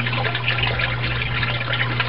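Water flows steadily through the drains of an aquaponic tank holding crayfish, a constant close rushing wash with a low steady hum beneath.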